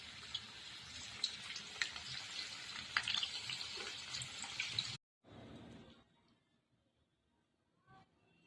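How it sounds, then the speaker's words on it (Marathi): Wheat flour modak fry in hot oil with a dense, crackling sizzle for about five seconds. Then the sound cuts away to quiet kitchen noises with a few faint clicks. "आता मी हे तळून घेणार आहे"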